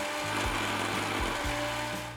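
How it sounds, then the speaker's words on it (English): Food processor grinding peanuts into peanut butter, a loud continuous motor whir with a gritty churning texture and faint periodic thumps, close and steady with no pause. "just keep the blender running"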